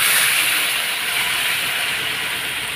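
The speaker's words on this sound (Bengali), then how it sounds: "এখন আমি জল দিয়ে দেবো, ঠিক আছে, তা জল দিয়ে দিই।" Water is poured into a pan of fried spices while cooking fish curry with green banana and potato, setting off a loud, steady, close sizzling hiss that fills the whole moment.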